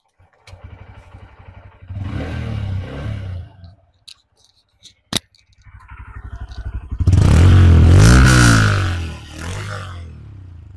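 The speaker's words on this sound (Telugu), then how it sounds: "ఒకసారి ఎగ్జాస్ట్ యొక్క సౌండ్ ఎలాగుందో ఒకసారి చూద్దాం." A Honda CB 125 Hornet motorcycle idles with a soft exhaust burble, then blips its throttle in a few short revs before a loud, sustained rev rises and falls near the microphone.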